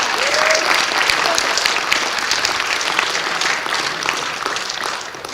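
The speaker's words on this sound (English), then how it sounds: "So, round of applause for everyone." Applause from an audience at a Shakespeare event, steady dense clapping sustained throughout at fairly close range, tapering slightly toward the end with no talk over it.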